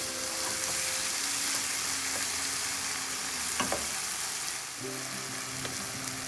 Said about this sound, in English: I am adding the chopped tomatoes and I am going to cook until the raw smell goes away